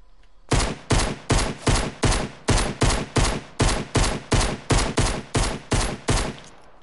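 Pistol fire in the video game Fortnite: about fourteen sharp, evenly spaced shots, loud and alone, roughly two per second.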